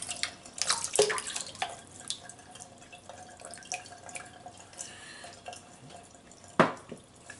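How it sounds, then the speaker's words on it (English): Water dripping and splashing from a wet shaving brush as it is wrung out over a sink during a traditional wet shave, scattered close drips and trickles with a sharper splash near the end, no talking. "I wring most of the water out, but just slightly leave it damp."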